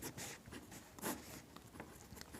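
Pen or marker strokes across paper while a maths problem is worked by hand, a run of short scratchy scribbles with small pauses, close and fairly quiet, with no talking.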